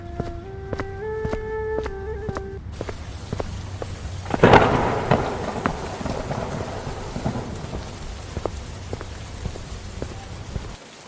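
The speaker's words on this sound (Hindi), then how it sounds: "एक तरफ मेरा बेटा मौत से लड़ रहा है और दूसरी तरफ तूने ये तूफान खड़ा कर दिया।" A thunderstorm with steady rain, a loud thunderclap rolling out near the middle of the clip and fading into continuous rainfall, with no talking.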